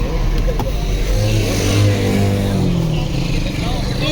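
A car engine rumbles steadily nearby, rising slightly as a vehicle passes, with constant road noise throughout.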